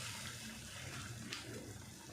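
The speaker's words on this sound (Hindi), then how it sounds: "बैंगन को भी पानी में धो के डाल दें ताकि काले ना हो जाएं।" Aubergines being rinsed in water, with a steady running, splashing wash close by that continues without pause and no talking over it.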